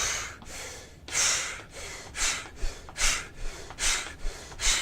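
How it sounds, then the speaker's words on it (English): Pursed-lip breathing while walking, paced one step to inhale and one step to exhale, comes through as close, airy breaths in a steady rhythm of about eight or nine strong puffs, with no talking. "I purse lip breathe for how long? 10 seconds."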